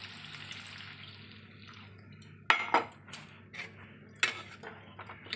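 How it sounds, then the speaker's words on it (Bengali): Water poured into a pan of fish curry on a home stove, a faint trickle followed by several sharp clinks and knocks of utensils against the pan, fairly close, without talk. "তার জলটা দিয়ে দিই"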